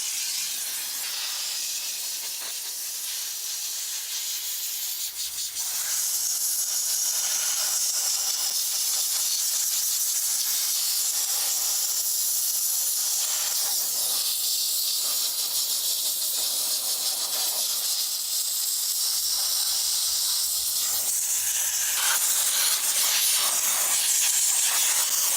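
A steam cleaner hisses loudly and continuously while spraying a car engine during detailing, a dense unbroken jet of steam close to the microphone with slight shifts in intensity and no speech.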